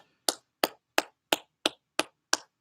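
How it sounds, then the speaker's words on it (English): Eight evenly spaced sharp claps ring out alone, close and loud, in a slow deliberate rhythm during a live kids' PE class. "And let's give Billy D a nice round of applause."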